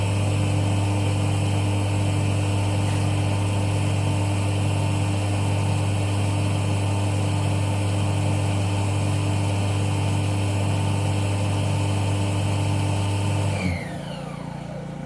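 A Brewer Science CEE 100 spin coater spins a wafer up to 6000 RPM, a loud steady motor hum with a constant high whine that cuts off abruptly near the end.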